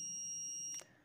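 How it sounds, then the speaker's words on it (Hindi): A digital multimeter set to continuity buzzer mode, used while repairing an induction cooktop, gives a steady, clear high-pitched beep for most of a second and then cuts off abruptly. "ये बीप की आवाज़ आप सुन सकते हैं।"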